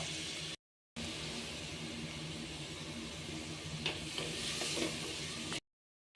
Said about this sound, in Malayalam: ഇത്തിരി ഉപ്പും കൊണ്ടിട്ടൊന്ന് വഴറ്റിയിട്ട് വന്നിട്ട് നമുക്ക് ബാക്കി ചേർക്കാം